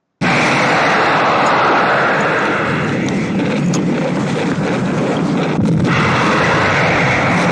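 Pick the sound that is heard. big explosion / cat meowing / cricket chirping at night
big explosion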